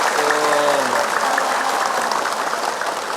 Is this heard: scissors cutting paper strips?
no